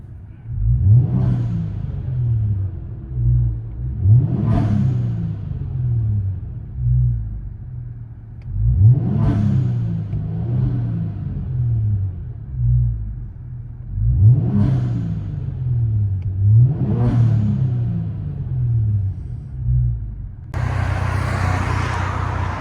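A Kia Stinger GT with a 480hp 3.3L twin-turbo V6 and muffler delete, heard from inside the cabin, revs up loudly five times in a steady rhythm. Each pull rises to a throaty roar and falls back to a low idle rumble.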